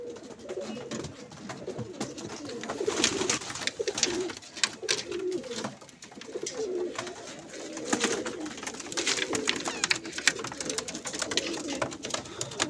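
Pigeons coo repeatedly in a loft of mixed birds, soft rolling calls overlapping steadily throughout with faint background rustle and no talking.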